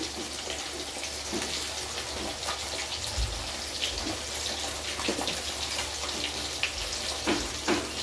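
Rui fish frying in mustard oil: a continuous crackling hiss with scattered pops, close and steady throughout.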